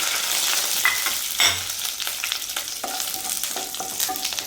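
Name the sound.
dried red chillies and curry leaves frying in hot coconut oil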